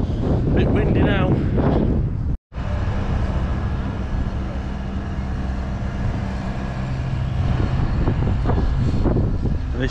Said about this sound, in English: Bit windy now.